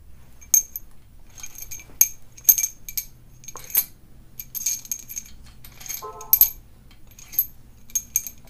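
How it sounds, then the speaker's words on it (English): Small metal washer falling during a Mazda Miata 1.8L engine teardown, giving several sharp metallic clinks and ticks spread over a few seconds against a quiet low hum in a workshop. "Oh, I dropped the washer already."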